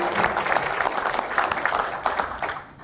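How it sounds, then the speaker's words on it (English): A round of applause from a crowd honoring instructors and students at a university award presentation, dense steady clapping that stays loud throughout before easing slightly at the end. "instructors, and students especially deserve that round of applause."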